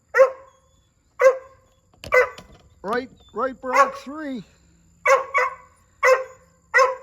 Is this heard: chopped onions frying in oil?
no